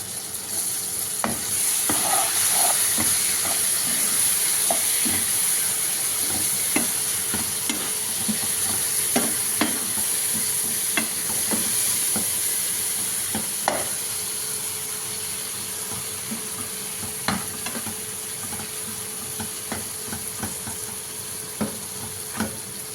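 Mint chutney ingredients with fenugreek powder cook in a pan with a steady sizzle and fry, broken by frequent clicks and scrapes of stirring. The sound stays fairly close and continuous, with no one talking.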